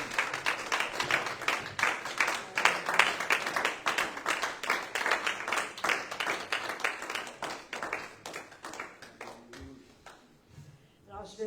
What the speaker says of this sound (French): Peux-tu te donner une bonne main d'applaudissement au Seigneur?